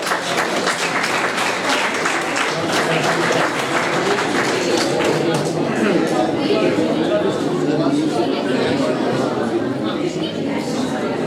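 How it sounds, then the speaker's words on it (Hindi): Audience applause welcoming a poet at an Urdu poetry gathering, a steady wash of clapping throughout, with murmuring and some talk mixed underneath. "आप भरपूर तालियों से इस्तकबाल कीजिए मोहम्मद अयूब साबिर साहिब का"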